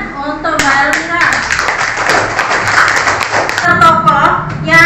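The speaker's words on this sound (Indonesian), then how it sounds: "Ya, tepuk tangan untuk Mbak Elmira." Classroom applause for a student presentation: many hands clapping together in a steady, dense burst that carries on for several seconds, close and loud, with a few voices audible underneath.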